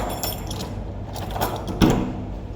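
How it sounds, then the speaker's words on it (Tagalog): Keys jangle and clink in short bursts as they are handled and set down at home, with a sharper metallic rattle near the end over a low background hum. "Ilagay ko natin susi dito."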